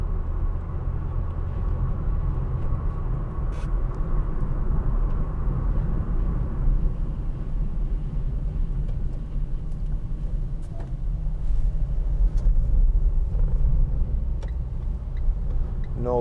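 A 2015 Vauxhall Vivaro 1.6 CDTi ecoFLEX van, empty, accelerates with a steady low diesel engine drone and road rumble heard from inside the cab, holding loud and even throughout.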